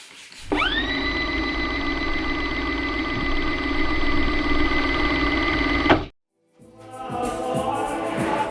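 An electric air pump inflating the seat of a home birth pool runs as a loud, steady buzzing drone for about five seconds, then cuts off abruptly, followed by quieter rustling.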